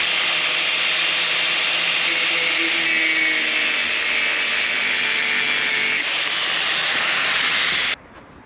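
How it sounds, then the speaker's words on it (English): A power tool trims the ends of bolts on a KOVE 450 Rally motorcycle, giving a loud, steady, high whine with a hissing edge that runs for about eight seconds and then stops abruptly. "Next job is just to nip off the end of these bolts and just make them a little bit safer."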